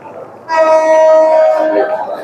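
A train sounds its horn at Sreemongol railway station, a loud sustained blast rising sharply and holding for about a second and a half over platform ambience before fading.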